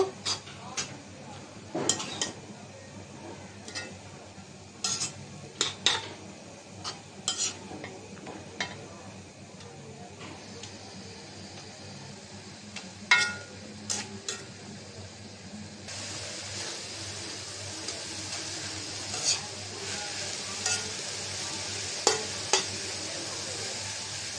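Kalmi greens (water spinach) with ripe Bombai chillies fry in a pan, a steady sizzle under repeated scraping and clinking of a spatula as they are stirred, the sizzle growing louder toward the end.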